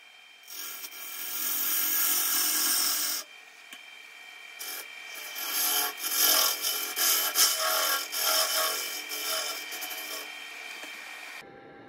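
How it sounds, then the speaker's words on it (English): A woodturning lathe cuts a tenon on a wet log turned round for a vase, giving close, loud scraping and shaving bursts: one long steady cut, then a series of shorter rhythmic passes. "Now that I have the piece round, I'm just creating a tenon"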